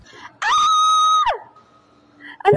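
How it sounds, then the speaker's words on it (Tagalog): A single loud, sustained scream from a person in a bedroom in a radio drama, held for nearly a second before breaking off, followed by a short sharp vocal outburst. "may marinig akong sigaw na nanggagaling sa kwarto"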